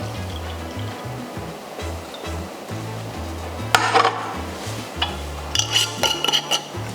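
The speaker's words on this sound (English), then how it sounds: "Once cooled, pour the sugar syrup into a jar." Cooled simple sugar syrup is poured into a jar, a soft liquid trickle under low background hum, with a couple of brief glassy clinks and taps partway through.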